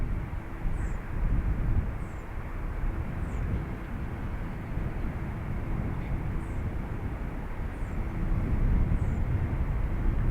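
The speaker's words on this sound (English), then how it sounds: "runway 28 right, clear for takeoff" Steady, loud jet aircraft engine roar from a plane taking off on runway 28 right at Dublin Airport, a broad continuous rumble that holds throughout with faint high chirps overhead.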